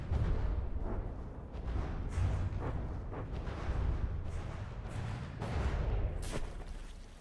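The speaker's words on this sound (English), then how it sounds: "Our CIWS continuously wants to waste this ammo trying to hit torpedoes." CIWS guns on a vessel in From The Depths fire at incoming torpedoes, producing a steady rumbling barrage of dull booms and cracks, loud and continuous with periodic sharper reports.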